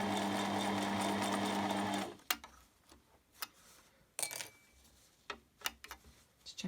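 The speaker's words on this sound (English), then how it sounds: "I'm going to continue sewing down to the bottom" A sewing machine stitches straight down the fabric of a simple two-zip pouch, running loud and steady for about two seconds before stopping, followed by small clicks and handling sounds.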